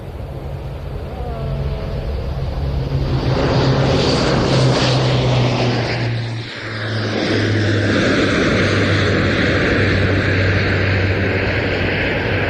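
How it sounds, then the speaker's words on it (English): A Royal Air Force Airbus Atlas C1 military transport of 70 Squadron takes off at an air show, its turboprop roar swelling loud and steady with a brief dip midway before surging again, sustained throughout. "To be specific, an Atlas C1 from number 70 Squadron of the Royal Air Force"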